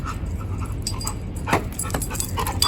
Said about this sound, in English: Look at you, silly dog.